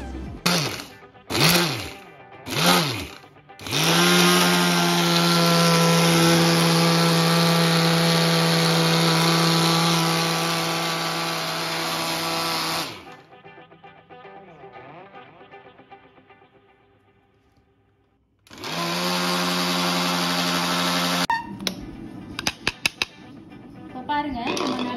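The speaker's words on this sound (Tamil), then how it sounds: "இப்போ இதை வந்து நல்லா பவுடராக அரைக்கணும்." Mixer grinder grinding cardamom, cinnamon, cloves, black pepper and dry ginger into powder: a loud steady whining motor runs for about nine seconds, pauses, then starts again, with short pulse bursts at the start and end.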